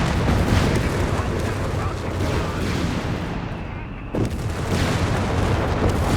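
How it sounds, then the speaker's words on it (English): Company of Heroes 3 battle audio with mines exploding and a grenade launch: dense, loud rumbling booms and gunfire fill the scene continuously, with a brief dip and a sharp blast near the end. "Grenade launch, Panther moving forwards, mines exploding"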